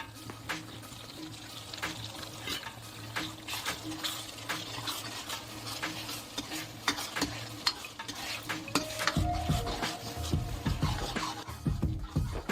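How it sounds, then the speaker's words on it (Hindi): Green chilli, garlic and ginger paste frying for Punjabi-style matar paneer, an even sizzle under repeated scraping stirs of a spatula, growing busier and louder toward the end. "अब हरी मिर्च, लहसुन और अदरक की पेस्ट को ऐड कर दिया हमने"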